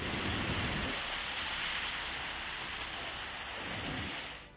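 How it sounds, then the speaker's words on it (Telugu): Heavy, unrelenting rain pours down in Rajahmundry, a dense steady roar of water striking surfaces close by that tapers slightly at the very end. "రాజమండ్రిలో ఎడతెరిపి లేకుండా వర్షం పడ్డంతో లోతట్టు ప్రాంతాలు జలమయమయ్యాయి."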